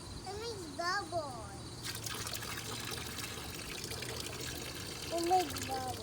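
Water glugging and bubbling out of a water bottle, with gurgling pulses near the start and again near the end over a steady trickle, a faint voice talking underneath.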